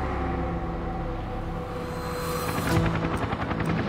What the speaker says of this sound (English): they've got the police helicopter up there, they're looking